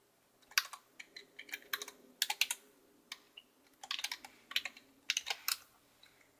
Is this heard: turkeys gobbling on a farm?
no